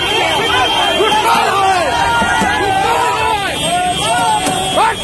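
An angry crowd chasing a motor vehicle inspector down a street, a dense loud babble of many shouting voices running continuously with wind noise underneath.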